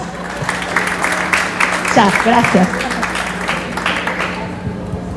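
Applause from the audience at an educational innovation conference, moderately loud, steady clapping running under a man's short spoken thanks in the middle.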